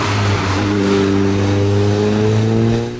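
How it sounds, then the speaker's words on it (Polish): Audi Quattro rally car engine revving at a rally memorial event, a loud, steady, close engine drone with strong harmonic tones holding for about three seconds. "Audi Quattro."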